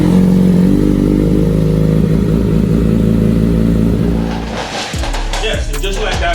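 A Kawasaki Ninja ZX6R motorcycle engine runs loud and close after a fresh oil change, a steady idle hum that shifts near the end into sharper revving bursts and clatter.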